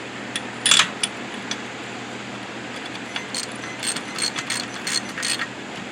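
Socket ratchet clicking as a bolt is tightened on a Briggs and Stratton engine of a McLane lawn edger, a quick burst of close pawl clicks early, then scattered lighter ratcheting clicks over a steady background hum.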